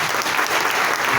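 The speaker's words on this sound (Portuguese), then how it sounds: "Se os irmãos puderem dar uma salva de palmas." A steady wash of clapping from a church congregation, continuous and fairly loud throughout, with no pauses.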